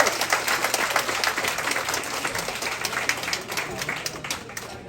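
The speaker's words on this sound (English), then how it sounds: "let's give them a great round of applause" Applause at a campaign dinner for a New York State Senate candidate, crisp scattered claps from a modest crowd at moderate distance, tapering gently over a few seconds with a faint murmur of voices beneath.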